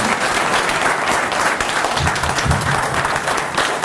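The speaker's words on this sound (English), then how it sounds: "Let's have a nice round of applause for Arthur Copeland" Audience applause for Arthur Copeland, dense loud clapping from a crowd, sustained for several seconds at close range.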